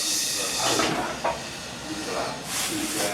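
Tempe sizzles and hisses steadily in hot frying oil during home cooking, a continuous bright crackle with a voice talking over it.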